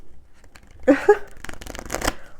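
Tarot cards are handled and flipped over close by, with a quick papery shuffle and a couple of soft slaps as they turn, followed by brief rustling.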